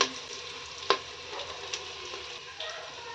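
Onion pieces frying lightly in a pan for bottle gourd curry, a soft steady sizzle with a few sharp stirring clicks, faint and close, heard without talk.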